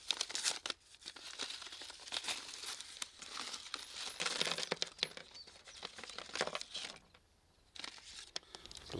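Packaging crinkles and rustles while a Lowrance HDS Pro fishfinder is unboxed, a series of close, irregular crackles and crunches of plastic or paper wrapping with a brief quiet gap near the end.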